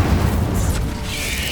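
Magical spell blasts from the Incendio and Descendo spells in Hogwarts Legacy, a heavy low rumbling boom that fills the moment, dense and loud with a sharp crackle rising near the end, no talking.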